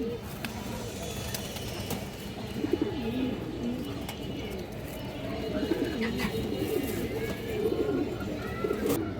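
Lively loft pigeons, including Army pigeons, coo continuously in overlapping low, throaty calls, with a few sharper chirps and clatters mixed in, fairly loud and close throughout.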